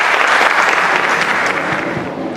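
A university audience gives a speaker a strong round of applause, dense and close at first, then gradually thinning and easing off toward the end.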